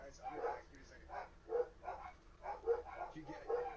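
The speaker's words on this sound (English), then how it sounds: "I'm sorry about the dogs." Several dogs bark in short, repeated bursts at a steady rhythm, reacting to someone outside; the barking is moderately loud and carries on through the whole stretch.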